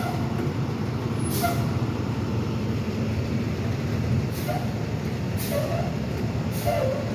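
A tow truck repositions after a car rollover on a city street, its engine rumbling under several sharp hissing bursts of air brakes spread across the stretch.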